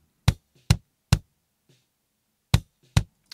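A gated kick drum close-miked next to the batter head gives sharp, clicky isolated thumps, three evenly spaced, a pause, then two more, with little boom and no talk.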